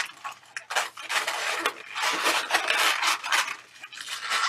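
A long latex balloon being twisted into bubbles for a balloon animal, giving close, loud squeaky rubbing and creaking in repeated bursts with short pauses between twists.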